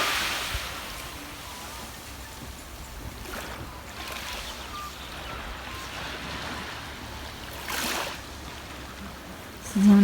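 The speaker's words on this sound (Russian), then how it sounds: "Сидим на пляже, слушаем шум моря" Sea waves wash onto Massandra beach in Crimea in early spring, a steady broadband surf hiss with a few swells rising and falling, heard at moderate distance without speech.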